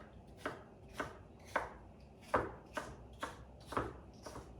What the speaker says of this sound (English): then I can just kind of stack them up and then easily cut them into similar sized pieces